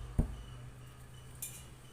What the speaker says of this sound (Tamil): இப்படி தட்டி பார்த்தீங்கன்னா இந்த மாதிரி சத்தம் கேட்கும்.